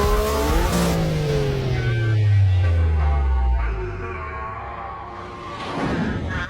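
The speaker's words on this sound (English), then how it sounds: "She slammed the gas and launched the car over a jump at 800 RPM." A car revs hard and accelerates to launch over a jump, its loud engine note sweeping downward as it speeds away, then swelling again near the end.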